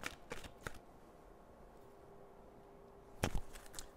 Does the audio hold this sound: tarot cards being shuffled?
yes